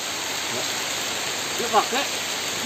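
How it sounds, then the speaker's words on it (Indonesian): Steady rain falling on a forest mountain trail on Gunung Kawi, a constant hiss of drops throughout, with faint voices murmuring briefly in the middle. "Sekarang kondisinya baru hujan turun."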